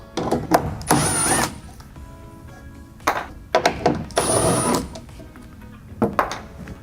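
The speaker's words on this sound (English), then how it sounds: "there are two 8mm bolts, one on the top, one on the bottom. We're going to go ahead and remove those." Two 8mm bolts are backed out of a pickup truck taillight from inside the bed with a power driver, giving several short whirring bursts separated by quiet pauses, close and fairly loud.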